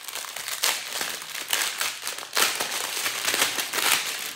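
Close, loud crinkling and crackling as thin plastic bags of diamond painting colour beads are handled and torn open, with repeated bursts of rustling and no talking.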